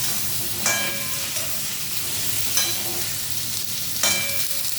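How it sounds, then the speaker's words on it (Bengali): Eggplant slices frying in oil in a pan give a steady close sizzle, with three brief louder bursts of hissing and scraping where the pieces are stirred or turned. "ভাজা হয়ে আসছে বেগুনটা।"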